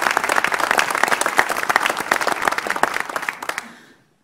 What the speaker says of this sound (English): I want to give you folks a round of applause if I could.